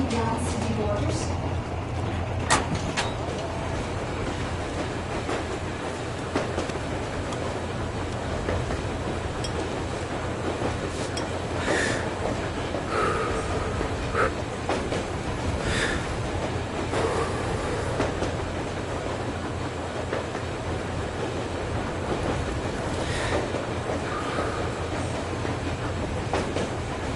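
A train rolls steadily through the Metro Exodus game world, a continuous low rumble with faint rail clicks and occasional high squeals, sustained at even loudness throughout.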